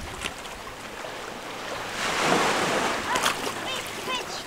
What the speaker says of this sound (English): Next, Sabai Beach, near Emerald Cave.